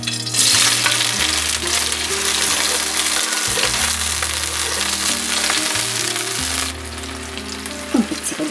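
Cherry tomatoes tipped into hot oil with a garlic clove give a loud, dense sizzle that bursts up at first and stays strong, then eases a little near the end. A low steady hum runs underneath and no one talks.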